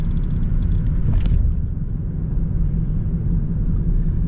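A car drives along Gratiot Avenue in Detroit, its steady low road rumble and engine drone running close and continuous throughout, with a brief brighter swell partway through.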